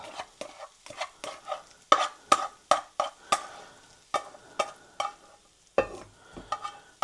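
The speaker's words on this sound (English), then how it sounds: "I'm just going to scoop my rice out. which has been in this rice cooker." Cooked jasmine rice is scooped out of a rice cooker with a series of sharp, close scraping and tapping strokes of the paddle against the pot, each short and separated by brief pauses, with no talk.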